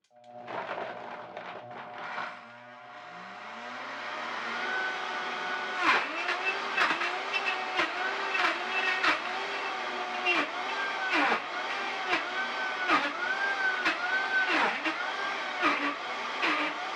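A Vitamix blender ramps up on variable speed control to its highest setting, with a loud steady roar that is punctuated by repeated thumps and dips in pitch as frozen ingredients are tamped down.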